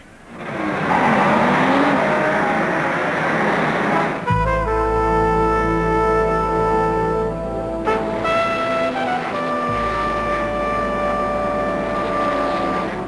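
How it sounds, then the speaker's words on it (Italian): Racing cars at the start of a Grand Prix burst into a loud, close roar after a few seconds of low crowd noise. The pitch of several engines climbs and shifts as they rev hard. "I piloti si preparano, la tensione sale, poi rombano i motori."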